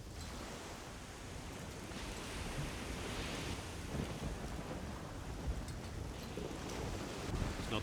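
Stormy wind and crashing sea waves from the video game Risen 2 roar in a dense, continuous rush that swells slightly over several seconds, with no voices.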